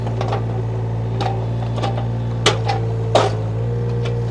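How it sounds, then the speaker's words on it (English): A 2006 John Deere 35D compact excavator swinging its boom, a steady loud diesel hum with hydraulic whine and a few sharp clanks and knocks from the machine, heard close up. "Swing boom all works."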